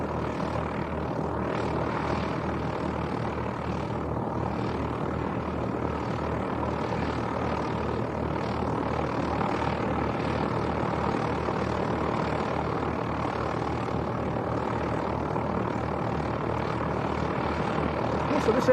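A propeller aircraft taxiing at Leeds East Airport, a steady droning engine that stays loud and close throughout, swelling slightly toward the end.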